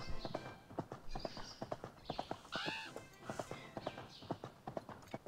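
Horse hooves clip-clop steadily while riding a track in Horse World 3D, an even rhythmic gait at moderate level with an occasional whinny.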